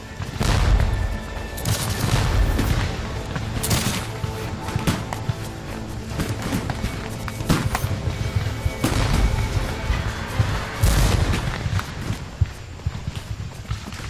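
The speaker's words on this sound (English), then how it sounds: "the crash of Union muskets breaks out on our right" Union musket volleys crash out in a Civil War battle at Gettysburg, rapid loud overlapping shots and booms repeating throughout amid battlefield commotion.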